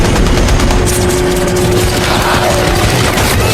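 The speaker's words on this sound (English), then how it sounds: "The two of them aimed the machine guns, firing at each other's observation towers" Machine guns fire in a loud, dense rapid burst, continuous and overlapping with a heavy low rumble, with no voices.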